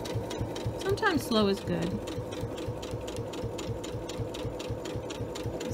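Sewing machine stitching quarter-inch binding on a small quilted mug rug, a steady close rapid mechanical chatter running slowly throughout, with a person speaking briefly over it early on.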